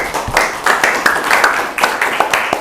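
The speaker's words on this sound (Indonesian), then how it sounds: "Silakan dikasih tepuk tangan dulu" Students in a classroom clap together after a practical lesson, a loud, close patter of several pairs of hands with uneven bursts and brief lulls.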